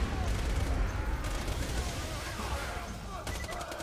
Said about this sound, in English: That was bad shooting there.